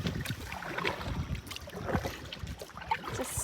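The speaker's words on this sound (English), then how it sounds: "I've been paddling for just over 15 minutes." Paddle strokes from a solo canoe on Tim Lake in Algonquin Park, soft splashes and drips in an irregular rhythm close by, over light wind and open-water ambience, no voices.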